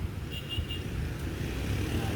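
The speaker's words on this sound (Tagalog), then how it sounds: "Sasakay naman tayo ng jeep pa LRT sa Masinag." Steady low rumble of a jeepney riding through traffic in Masinag toward Cubao, engine and road noise continuous and close, with faint traffic around and a brief high whine midway.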